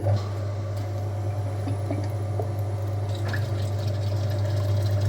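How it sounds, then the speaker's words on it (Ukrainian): Water being flushed through the heater radiator of a Kia Optima with a dirty cooling system, a steady close pump hum and running flow with faint drips, continuous throughout. "Підключаємось до радіатора пічки, миємо радіатор пічки."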